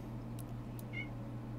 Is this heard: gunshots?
no